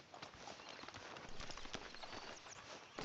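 Horse hooves clip-clop in Red Dead Redemption 2, a quick, steady run of close, distinct hoof strikes on hard ground, continuous throughout, with no talking.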